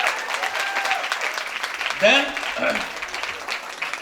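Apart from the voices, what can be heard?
audience applause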